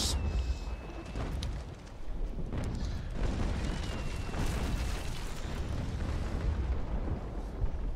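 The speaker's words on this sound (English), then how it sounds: "I will be firing my rear chasers." Rear chaser cannons on a sailing warship fire in the Naval Action age-of-sail game, a string of heavy booms rolling over a dense, rumbling battle din with no pauses.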